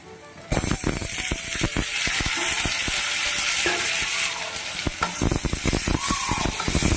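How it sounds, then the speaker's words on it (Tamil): Onions sizzle steadily in hot oil while a utensil clatters and scrapes the pan in irregular strokes, close and fairly loud. "எப்பவும் போல் ஆனியன் டீ அளவுக்கு கொஞ்சம் பொன்னிறமாக வர அளவுக்கு வதக்கி எடுத்துக்கோங்க"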